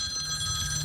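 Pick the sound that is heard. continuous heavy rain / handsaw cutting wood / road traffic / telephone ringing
telephone ringing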